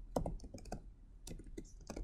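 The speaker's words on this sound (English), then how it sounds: "then we can type on this" Keys on a computer keyboard are tapped while a spreadsheet sheet is renamed: a quiet, irregular run of light clicks with short pauses, close and alone.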